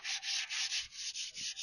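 A 600-grit pad is rubbed by hand over bare metal on a VW T25 van, producing about eight rhythmic back-and-forth scrubbing strokes, close and fairly soft, with no voices.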